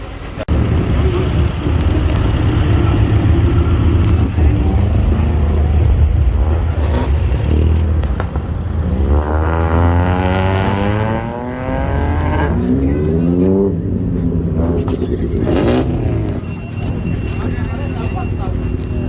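Race cars tearing around a track at the Valley Run summer event in Aamby Valley, Lonavala. Engines roar loud and steady throughout, with rising revs sweeping up and down in the middle, and voices mixed in beneath the noise.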